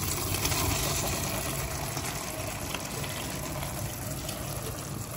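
Liquid pouring into a cooking pot, a steady rushing, gushing splash sustained at close range without pause or speech.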